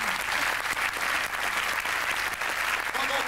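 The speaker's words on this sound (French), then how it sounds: "Donc j'aimerais tous vos applaudissements pour Pascal Sitotal, l'ingénieur du son." Audience applause at a live comedy show in Huy, Belgium, a steady dense clapping from a large crowd that fills the whole stretch without a break.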